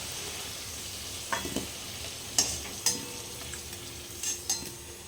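Potatoes fry in hot oil, reddened and done, with a continuous low sizzling bed punctuated by several sharp utensil clinks and scrapes against the pan, close by and without speech.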